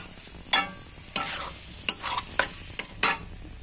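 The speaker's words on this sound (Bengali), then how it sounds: "নাড়াতেই পারছি না" A thick chow mein mixture is stirred in a pan, giving a steady frying hiss broken by about six sharp scraping strokes at an uneven pace, close and fairly loud with no talking.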